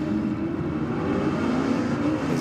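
A nitrous-equipped VS Commodore drag car launches at Sydney Dragway, a loud sustained engine roar that holds steady and climbs slightly, heard from a distance with no voices.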